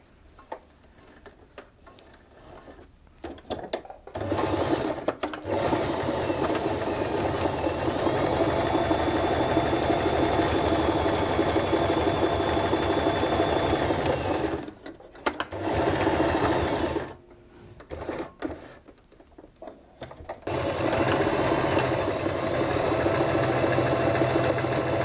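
A sewing machine stitches a seam along a line in a steady, fast mechanical whir. It runs in long stretches broken by short pauses, close and clear with no talk.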